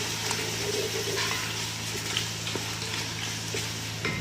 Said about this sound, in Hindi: ये देखिए, अब मैं पालक की भुनाई कर रही हूँ